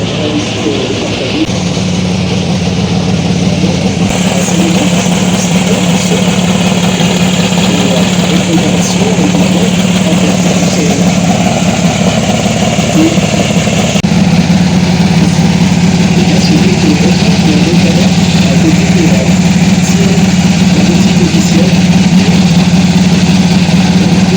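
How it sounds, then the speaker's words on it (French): A Ferrari 499P race car engine idles loudly and steadily for about 24 seconds with a deep, constant drone at an outdoor Ferrari charity event. Faint crowd noise and talking sit underneath. "Ils ont démarré la 499P."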